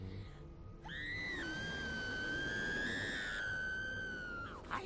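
A woman's long, piercing scream in a film, rising sharply and held loud and steady for about four seconds before breaking off, over a dense dramatic background.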